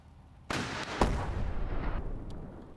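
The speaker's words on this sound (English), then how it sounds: "Maybe you can use the rocket" A rocket launches in the WW2 tactics game The Troop with a sudden roaring burst, then a heavier blast a half-second later, followed by a rumbling tail of battlefield noise.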